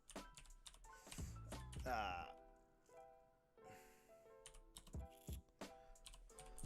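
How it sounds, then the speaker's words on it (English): One-finger typing on a computer keyboard: irregular, separate clicks and taps, close and moderately loud, with pauses between keystrokes and some other sounds underneath. "Typing one fingered here."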